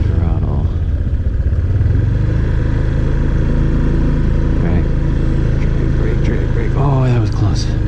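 A Honda PCX scooter engine hums steadily up close as a learner rider applies light throttle, with a constant droning tone and a voice speaking briefly over it.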